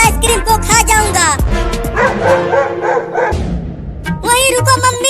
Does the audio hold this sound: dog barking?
yes